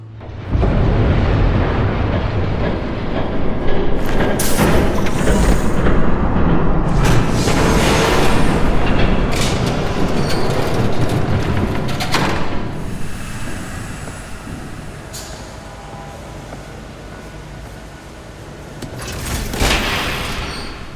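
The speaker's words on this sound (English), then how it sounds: "There's a train coming." A train passes in a Batman video game, a loud sustained rumble and roar with bursts of clanking that build, swell and fade over about twenty seconds with no talk.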